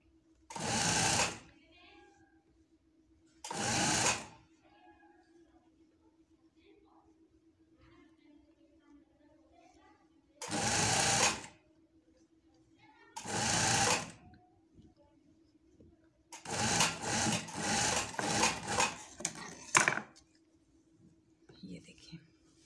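A sewing machine stitches a shirt in short bursts, then a longer stuttering run, with a steady low motor hum between runs and someone speaking faintly at times.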